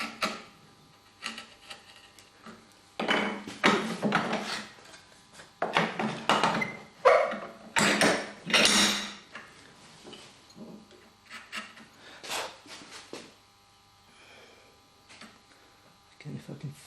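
A sharp chisel pares end grain to clean out a hand-cut dovetail joint, giving repeated short scraping, shaving strokes in bursts with quiet pauses between them, close up and fairly soft.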